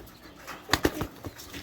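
Pigeon wings flap in a few quick, close claps clustered near the middle, with a couple of softer beats after and a quiet background.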